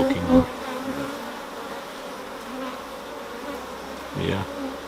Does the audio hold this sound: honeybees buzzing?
yes